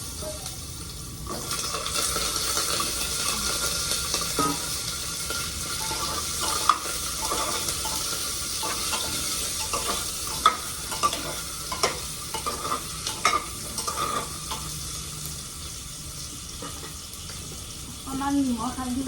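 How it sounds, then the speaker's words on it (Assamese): Potatoes fry and sizzle in hot oil in a home kitchen as they are stirred, a steady hiss broken by scraping and clinking of the spatula against the pan, with occasional voices and running water in the background. "তেলটো গৰম হ'ল এতিয়া মই আলুখিনি দি দিম"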